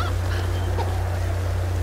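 A chicken in the video game Tomb Raider 2013 gives a few short clucking honks over a steady low background hum.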